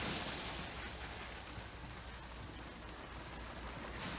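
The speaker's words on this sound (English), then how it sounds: "Let it rain." Steady rain pours in The Callisto Protocol, a continuous, dense hiss of falling water that holds at an even level throughout.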